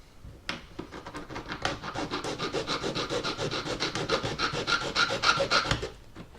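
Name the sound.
filing HO scale model railway rail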